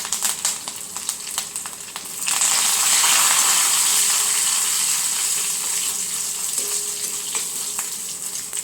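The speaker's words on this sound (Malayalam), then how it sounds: "ഉണക്കമുളകും കറിവേപ്പിലയും ഇട്ട് കൊടുക്കുന്നുണ്ട് കേട്ടോ. അത് പൊട്ടട്ടെ." Dried red chillies and curry leaves dropped into hot oil, a brief crackle giving way to a loud, sustained sizzle and hiss that slowly settles, close up with scattered pops.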